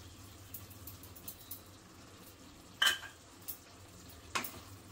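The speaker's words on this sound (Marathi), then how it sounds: "चांगले मिक्स करायचं आहे" A spoon stirs ridge gourd curry in a pan just after crushed peanuts go in, giving soft scraping, a light sizzle and a few sharp metallic clinks, quiet and close with no talking.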